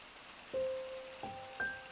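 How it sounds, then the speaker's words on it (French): Gentle spring rain falls outdoors as a soft, steady hiss, with a few brief tonal notes rising above it. "Une pluie douce de printemps."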